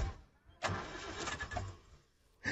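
A car engine in a movie scene cranks and catches with a sudden burst, runs roughly for a couple of seconds, fades, then roars up again at the end.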